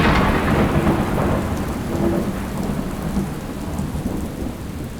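Heavy rain pours steadily in a thunderstorm, a dense loud wash of drops with deep rolling thunder rumbling underneath throughout, no voices.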